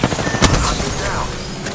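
Automatic weapon fire in the video game Apex Legends, a dense continuous burst of rapid shots with booming low end, packed with other game sounds.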